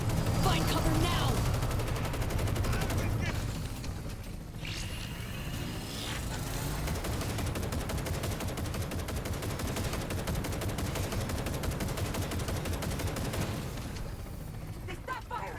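Sustained automatic gunfire in the Cyberpunk 2077 Phantom Liberty video game, rapid bursts rattling almost continuously in a loud firefight, with shouted voices mixed in.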